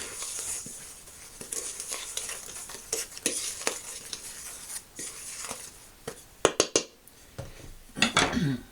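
A spoon stirring a banana jam dough mixture in a bowl, with irregular scraping strokes and clinks against the bowl, close up and growing louder and choppier toward the end.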